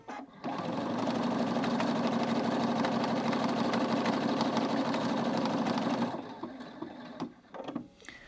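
A Husqvarna Viking Brilliance 75Q sewing machine stitches in a steady, fast whirring run for about six seconds, then stops, leaving faint handling clicks and quiet movement.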